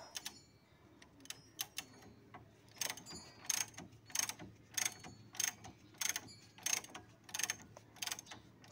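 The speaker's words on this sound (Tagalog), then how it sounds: "So gagamit tayong ratchet at 17mm socket wrench." A ratchet with a 17mm socket clicks rapidly in bursts while turning the nut of a worn stabilizer link on a 2007 Kia Sportage, the close, crisp pawl ticks steady and rhythmic with no talk.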